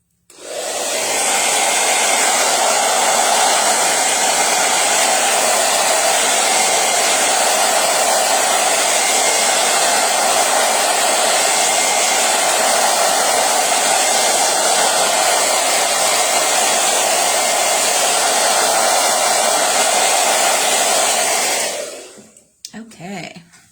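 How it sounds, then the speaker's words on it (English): A hair dryer blows continuously at close range with a loud, steady whooshing hum for over twenty seconds, then cuts off abruptly. "let me hit this with the hairdryer here real quick"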